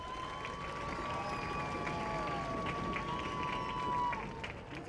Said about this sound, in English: Let's give them all a hearty applause.